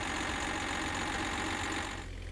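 Tow truck engine in the Tow Truck Driver Sim game idles with a loud, steady mechanical drone and low throbbing pulse, easing slightly at the end, with no speech over it.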